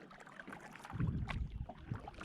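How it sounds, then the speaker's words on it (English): A kayak paddle dips and splashes on a lake, quiet close-up water swishes and drips in a couple of soft strokes with light wind noise. "be out paddling, just for no other reason than just to paddle the lake and get a little exercise."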